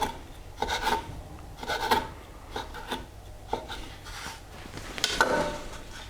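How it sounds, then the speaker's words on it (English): A knife slices rolled fresh pasta dough into 2 to 3 millimetre tagliatelle strips, a series of soft, quiet scraping cuts repeating at irregular intervals close by. "we just simply get a knife and cut 2 or 3 millimeter slices off the end"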